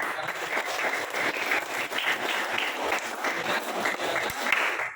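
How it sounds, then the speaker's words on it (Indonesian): Classroom group applause closing a teacher-training practice lesson, a dense steady patter of many hands clapping at close range for about five seconds with no talking. "kita kasih tepuk tangan dulu untuk kita semua"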